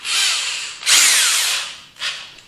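A right-angle power drill whines in two bursts: a long, high-pitched spin followed by a shorter one after a brief pause, close and loud.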